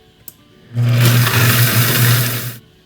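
A blender mixing horchata with water whirs loudly for about two seconds after a small click, then cuts off abruptly to near silence.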